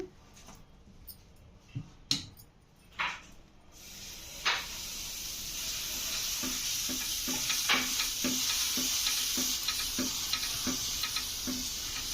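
Masala dosa batter sizzles on a new pan at a tiffin-centre style stove, a steady frying hiss that rises after a few sharp taps and clicks, with light scraping ticks repeating over it.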